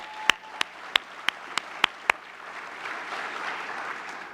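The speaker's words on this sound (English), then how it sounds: "this is a big accomplishment, and it deserves applause." Applause at a Mandela Washington Fellows gathering opens with about seven sharp, evenly spaced claps, then swells into a broader wash of clapping from the audience, moderately loud and without talk.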